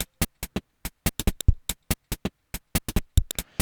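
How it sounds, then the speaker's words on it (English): Basic 2-step drum beat programmed on a laptop, crisp separate hits in a syncopated, uneven pattern with occasional heavier low kicks, dry and close. "It's a pretty basic 2-step beat."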